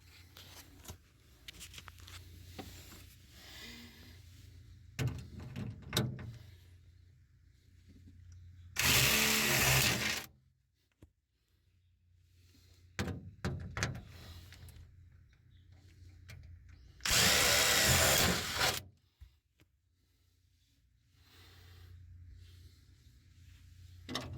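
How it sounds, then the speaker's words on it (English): A handheld power drill with a 5/16 bit bores mounting screw holes for a dual battery switch install, two loud sustained whirring bursts of about a second and a half each, separated by quieter handling noise. "I'm going to go ahead and drill out those holes for the mounting screws"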